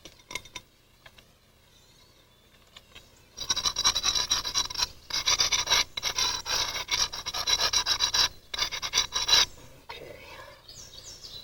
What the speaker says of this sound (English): Take the smaller antler. It's positioned in such a way I can go ahead and trim it with short flakes to get that edge trimmed up.